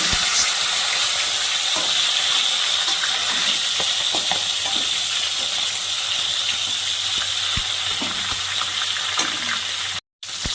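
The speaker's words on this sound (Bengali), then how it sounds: "মাথাটাকে আমি উল্টে পাল্টে লাল করে দেব।" A hilsa fish head being fried and turned in a pan of mustard oil, giving a constant close crackling sizzle with occasional soft clinks and shifts, no voices.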